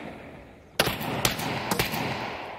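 Another player's gunfire in the video game Escape From Tarkov comes as a sudden loud burst of shots. Several sharp reports crack over a continuous noisy background, close and harsh.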